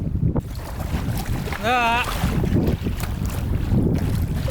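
Wind buffets the microphone over the rush of open-sea waves against a kayak, a continuous roaring wash, with a brief warbling tone and a short voice partway through.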